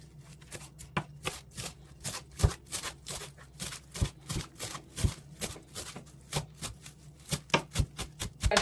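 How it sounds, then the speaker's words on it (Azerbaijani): A knife chops fresh herbs into not-too-small pieces for a dolma pickle, giving a steady series of quick, crisp taps on a board that stays fairly close and even in loudness. "Çox kiçik olmayan formada doğrayıram."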